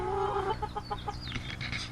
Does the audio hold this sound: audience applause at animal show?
no